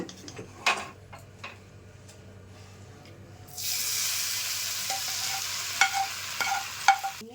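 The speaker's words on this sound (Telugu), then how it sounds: "ఇప్పుడు ఈ తాలింపు అంతా ఇందులో వేసేసుకుందాం." Hot tempering pours into cooked Tamil Nadu-style ven pongal with a sudden loud sizzle that keeps hissing steadily, with small clinks and taps of a utensil.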